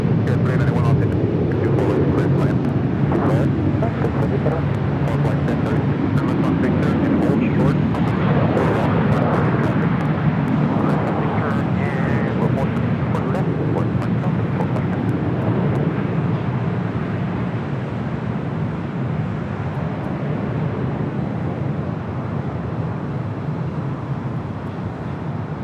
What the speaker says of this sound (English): It's an E175, now rolling down at 24 left.